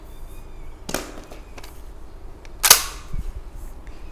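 A Mertmak pump-action shotgun with a 12-inch barrel and its stock removed fires one sharp, loud blast, preceded by a smaller click and followed by faint mechanical handling noise.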